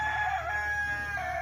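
A rooster crows on a backyard poultry setup, a single sustained call heard fairly close, with steady background hum and no talking.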